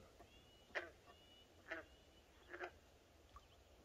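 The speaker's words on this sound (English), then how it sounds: "As you can hear, I've got some frogs behind me" Frogs near a lake give a few faint, well-spaced croaks at regular intervals against a quiet outdoor background.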